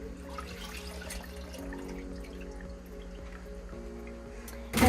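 Instrument milk drains from sterilization cassettes into a sink, a steady trickling and dripping of liquid with a low hum behind it, close and moderate, ending in a louder splash.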